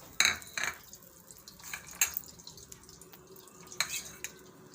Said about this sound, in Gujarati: તો હવે આપણે એમાં થોડુંક ઘી નાખીને લોટને શેકવાનો છે.